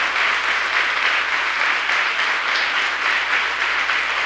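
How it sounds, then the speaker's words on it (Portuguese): A church congregation applauding during a worship service, continuous even clapping sustained for several seconds with no speech on top. "Vamos dar uma salva de palmas ao Senhor"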